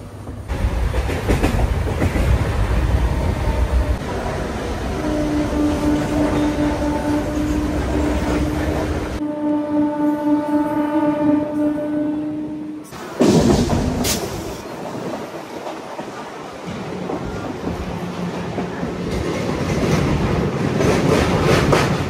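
A MEMU passenger train running from Rajahmundry to Vijayawada rumbles steadily with clattering wheels, a loud continuous roar heard from inside the carriage, with a tonal hum and a sharp shift in the noise midway.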